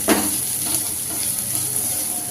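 Chopped carrot and capsicum sizzle and fry in a pan as they are stirred, a steady bright hiss with a brief scrape of the spoon at the start, close and continuous.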